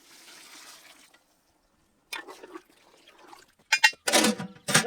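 Water pours into a cooking pot for naati mutton dum biryani, a soft, steady splashing stream that stops, followed by a few sharp clattering bursts near the end.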